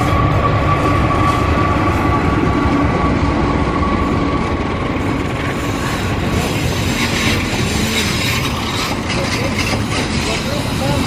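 The Argo Sindoro passenger train in Indonesia rumbles past continuously and loudly, wheels clattering on the rails, with people chatting faintly over the noise.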